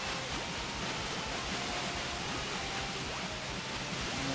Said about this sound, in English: Take the route through the waterfall.